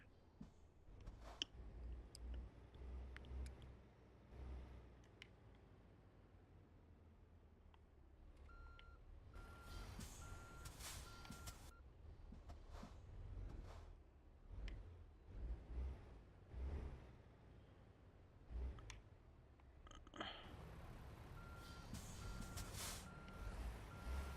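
In American Truck Simulator, a truck backing a trailer into a parking spot sounds intermittent reversing beeps over a low diesel rumble, with clicks and air-brake hisses scattered across the stretch; faint overall, with no talking.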